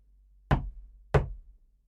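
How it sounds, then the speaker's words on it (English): Two firm knocks on the door of a country house, spaced about half a second apart, close and distinct against silence. "He knocked at the door"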